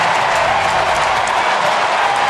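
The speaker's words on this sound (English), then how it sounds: "And listen to this crowd." A large baseball stadium crowd roars steadily after a Giants pitcher hits a home run on the last day of the season, a dense, continuous wash of cheering and applause with no clear voices.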